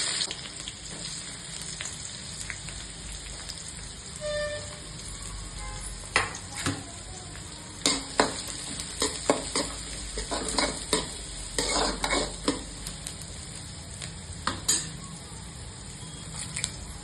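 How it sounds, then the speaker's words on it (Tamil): Onions frying in a pan with popped mustard seeds, fenugreek and cumin for a sundakkai kuzhambu, sizzling softly at first, then stirred with a run of scraping and tapping strokes, close and with no voices. "பொரியட்டும் கடுகு பொரிஞ்சிச்சு வெங்காயம் போட்டுக்கலாம்"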